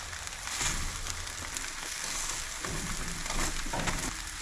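Power bowl ingredients fry in a pan with a continuous close sizzle while being mixed, with light scraping and shuffling of the food throughout.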